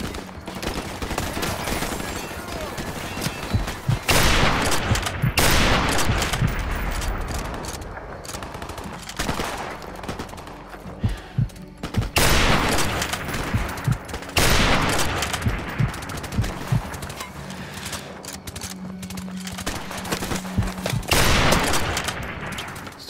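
Gunfire in Modern Warfare Remastered, loud repeated bursts of automatic and single shots in dense clusters separated by brief quieter gaps.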